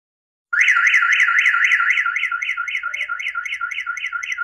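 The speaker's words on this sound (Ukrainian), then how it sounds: "Тобто сигналізація включає тривогу ще до того, який заглушать" A car alarm triggered by a signal jammer suddenly starts wailing, a steady rapidly warbling electronic siren that continues loudly without pause.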